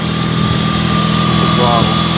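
A Honda 3813 garden tractor engine idles steadily and loudly with a smooth, constant rumble that runs close and unbroken throughout.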